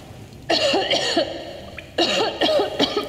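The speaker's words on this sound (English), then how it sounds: "Bitch, stop coughing." A character coughs in the video game Metro Exodus: two close, loud bursts of harsh, raspy coughing, each a cluster of several hacks, separated by a short quiet pause.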